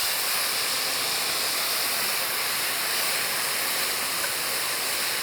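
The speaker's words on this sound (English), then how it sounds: "I'm going to deglaze." Steam hisses in a steady, loud, unbroken rush as a very hot pan of onions caramelizing on high heat is deglazed, with no voices.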